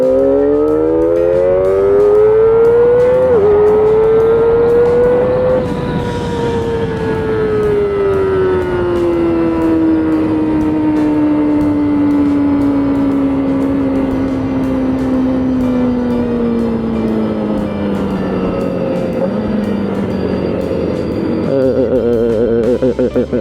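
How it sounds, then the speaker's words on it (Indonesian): A Kawasaki ZX25R four-cylinder motorcycle screams at high RPM, its shrill engine wail climbing through gear changes and then holding a long, loud, steady pitch as the bike pulls hard on the road. "Ini narik banget di RPM tinggi."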